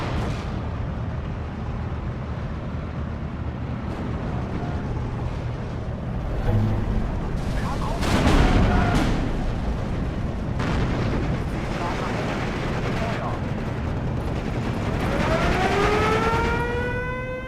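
Artillery fire in the WW2 strategy game Steel Division 2, a rumbling barrage of booming shots and blasts spread over the battlefield ambience, with a rising whine near the end and talk over parts of it.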